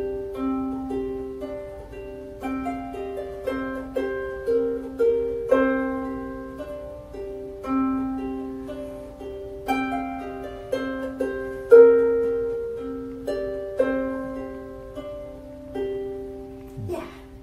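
A harp plays a gentle plucked melody built on the Hebrew word Ahava, with single notes and small chords ringing and overlapping in a steady, unhurried rhythm, close and clear with no talking.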